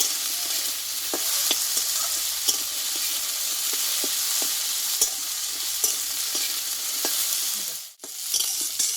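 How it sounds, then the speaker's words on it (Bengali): Potatoes fry in a pan with a continuous loud sizzle and spaced stirring taps; the sizzle briefly drops out near the end, then returns. "আলুটা আমি একটু ভালোভাবে লাল লাল করে কষিয়ে নিয়েছি"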